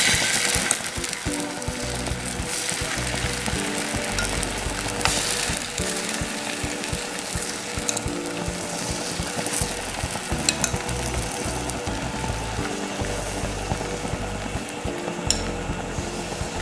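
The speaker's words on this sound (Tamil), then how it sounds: "நம்ம அடித்து வச்சுருக்கிற முட்டையை வந்து இதில் ஊற்றிக்கலாம்." Beaten egg sizzles on a buttered griddle in a steady, close-up crackle that carries on for the whole stretch, with faint scraping or stirring noises and no talking.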